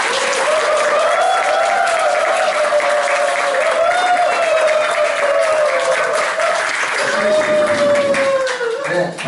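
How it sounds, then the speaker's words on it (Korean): Audience applause greeting the first lecturer at a talk event in a Gumi coffee shop gallery, dense steady clapping from a room full of people, loud and close, sustained for about nine seconds before tapering. "뜨거운 박수 부탁드리겠습니다."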